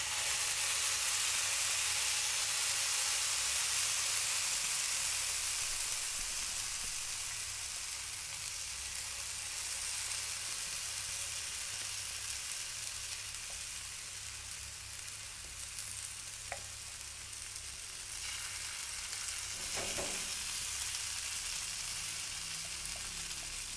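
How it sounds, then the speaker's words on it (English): Spice paste sautés in a hot pan for a turmeric chicken dish, giving a steady, close sizzle that softens slightly after the first few seconds, with faint stirring touches and no talk. "Heat a pan and sauté the spice paste until fragrant and cooked through."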